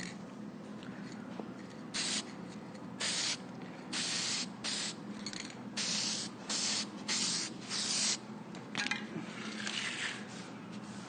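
Repeated bursts of spraying finish onto a rustic wooden tabletop, short hissing blasts with brief pauses between them, close by over a low background hum.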